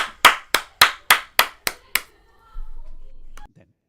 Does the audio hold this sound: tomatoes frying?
no